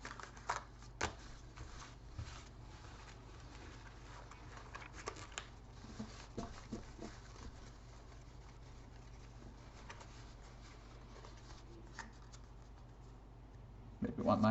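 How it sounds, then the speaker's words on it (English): Deck of playing cards being shuffled during a card trick: soft riffling and flicking of cards close by, in irregular bursts with brief pauses, fairly quiet against background hiss. "I'll shuffle these again"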